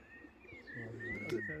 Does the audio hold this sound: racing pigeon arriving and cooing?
yes